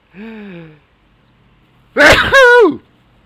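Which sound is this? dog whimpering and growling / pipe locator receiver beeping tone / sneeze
sneeze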